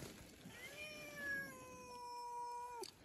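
A cat outdoors gives one long, drawn-out meow that holds steady for a few seconds over a faint background hiss.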